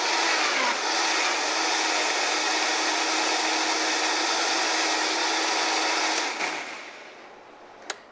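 A Vitamix blender blending a green smoothie of leafy greens, a loud, steady high-pitched whir that holds evenly for about six seconds, then winds down and fades, ending with a brief click.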